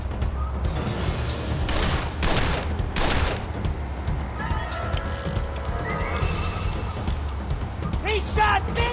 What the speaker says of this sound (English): He shot Vinny!